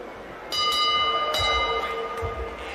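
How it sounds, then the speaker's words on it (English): A boxing ring bell at a boxing arena rings to end the round, several sharp metallic dings in quick succession, loud over a murmuring crowd. "Bell goes for the end of the round."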